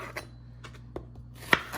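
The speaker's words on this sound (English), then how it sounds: "Chopping off those tips." A knife chopping the tips off Brussels sprouts on a cutting board, a few soft separate taps and one sharper knock, quiet and close, no talk.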